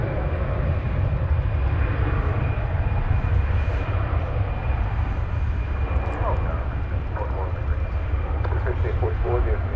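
An American Airlines Airbus A319 jet at DFW Airport gives off a steady, loud engine roar and low rumble that holds throughout, with a person talking over it.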